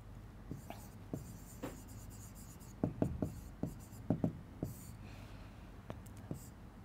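Pen writing by hand on paper while solving a graph problem, a faint scratchy stroke sound with irregular clustered taps and scribbles, close and quiet, with soft background hiss and no clear talk.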